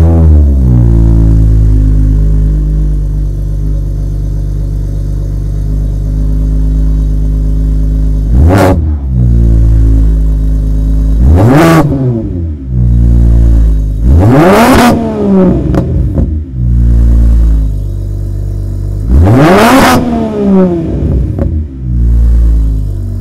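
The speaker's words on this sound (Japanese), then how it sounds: "BMW の6気筒ならではの乾いたかなり気持ちいい音がなってます" A BMW E90 325i M Sport with a naturally aspirated six-cylinder engine idles steadily, then blips through four sharp revs that rise and fall, loud and close, with no talking.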